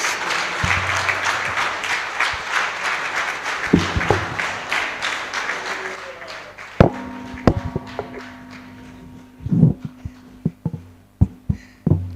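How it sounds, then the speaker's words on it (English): Audience applause at a radio studio handover event in Kanyamazane fills the first part, dense clapping that thins out into scattered individual claps and knocks near the end. "Ladies and gentlemen, a round of applause"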